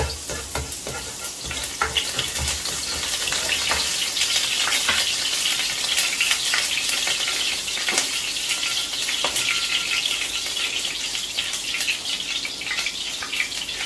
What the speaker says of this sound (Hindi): तो अभी इसमें शामिल करूँगा 1 table spoon fresh garlic crush. इसको मैं ब्राउन करूँगा।